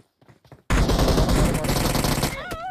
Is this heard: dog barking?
no